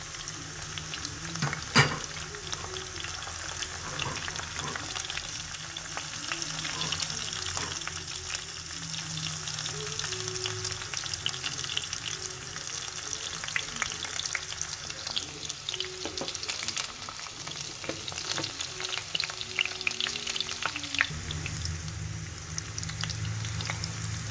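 Onions fry in oil in a pan for a dal tempering, a steady close sizzle with occasional stirring scrapes, continuous and fairly loud, with no voices.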